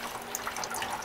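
Fluid draining from under a 1964 Cadillac, a steady close trickling and splashing stream that stays even throughout, with no talking.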